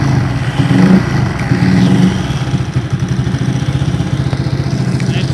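A supercharged postie bike engine fires up loudly nearby, then settles into a steady, throbbing idle with a regular low pulse.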